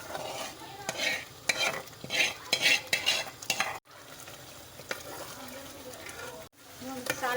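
A spice mixture sizzles in hot oil while a spoon stirs and scrapes the pan, with rhythmic scraping strokes over steady frying hiss and two brief silent gaps; someone speaks over it.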